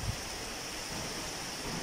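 Continuous rain with gusting wind, a dense, even roar of falling water that holds steady throughout with no voices.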